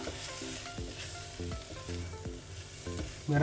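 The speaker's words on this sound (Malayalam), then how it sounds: "ഇതെല്ലാം കൂടെ നന്നായിട്ട് തന്നെ ഇളക്കുക" Egg curry masala with coriander powder and garam masala sizzles in a pan as it is stirred, with repeated scraping strokes over a soft, constant fry and a faint tonal pattern behind it.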